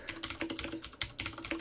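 Rapid typing on a computer keyboard with the cotton key dampening pulled out from under the keys, giving sharp, clacky, close key strikes in quick uneven bursts with brief pauses between runs.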